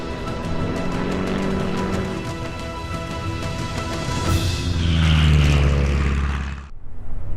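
Engine of an aerobatic airplane during a formation flight display, a loud steady propeller drone that swells and shifts pitch as it passes, then cuts off abruptly near the end.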